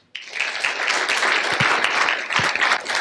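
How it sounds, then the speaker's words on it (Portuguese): Audience at a leadership talk bursts into applause for four volunteers, a sudden dense wash of many hands clapping together, loud and sustained throughout. "eu quero que vocês deem uma salva de palmas aos quatro"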